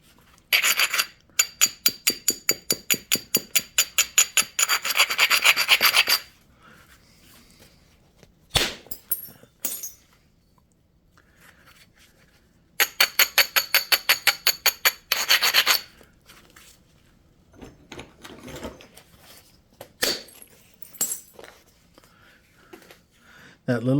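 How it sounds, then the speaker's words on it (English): Chert struck with a small three-quarter-inch bopper in a flintknapping session: two long runs of rapid, sharp clicking raps, close and loud, separated by a few single hard knocks and quieter handling sounds. "That little bopper, little 3/4 inch bopper, just took this flake all the way to here."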